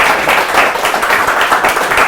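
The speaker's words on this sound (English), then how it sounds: "Round of applause for awesome stories." An audience at a game jam event claps in a dense, continuous round of applause, fairly loud and close, without any speech over it.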